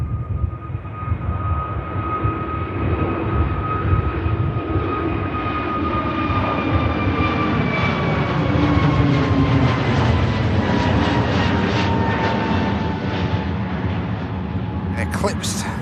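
EasyJet airliner rotating on takeoff at Manchester Airport, a loud sustained jet engine roar with tonal whines sliding gradually in pitch as it climbs away, continuous for the whole span.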